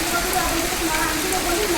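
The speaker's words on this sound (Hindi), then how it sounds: "देखिए पानी इतना जोर हो रहा है गाइस। नली में पानी देखिए एकदम" Heavy monsoon rain sends water rushing through a drain pipe on a rooftop, a dense, steady close hiss and gush of flowing water with no pauses.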